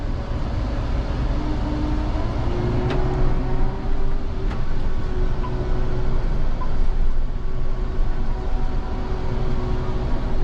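A sprayer vehicle drives slowly around a pasture in freezing weather, its engine giving a steady, loud, close drone with a faint tonal whine and the odd rattle.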